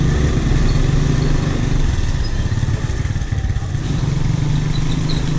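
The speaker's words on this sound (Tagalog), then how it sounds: "Yung takbo ng motor ko" A motorcycle engine drones loud and steady throughout while the bike rides a muddy, rough road. A rattling clatter runs through the ride, and no one speaks.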